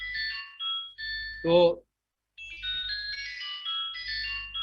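Phone ringtone going off during a classroom lecture, a bright repeating electronic melody playing in bursts with a short pause, with brief speech in between.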